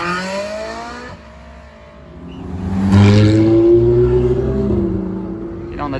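Two Ferrari V12 engines rev loudly at a car gathering, a steady engine roar swelling to a peak mid-clip then holding, with other motors audible nearby.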